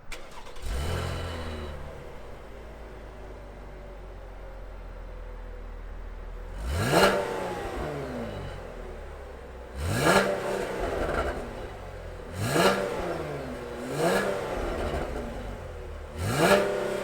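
Chevrolet Camaro RS V6 convertible firing up: a starter catch and rising roar settle into a steady idle, then four sharp revs spaced a few seconds apart each swell and fall back, loud and close.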